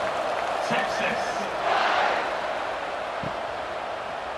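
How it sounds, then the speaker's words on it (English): Broad crowd roar from a large stadium audience in the video game EA Sports College Football 26, Citrus Bowl, Michigan vs Texas, swelling with cheers and shouts, steady and loud throughout with voices mixed in. "these fans, they get something to cheer about with that first offensive possession"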